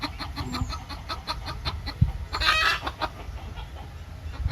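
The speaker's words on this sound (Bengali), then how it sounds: "মুরগির মায় ওই যে চারিপাশে ঘুরতে আছে" A mother hen in a village yard clucks in a steady series of short, evenly spaced calls, moderately close, with one louder squawk midway and no talk.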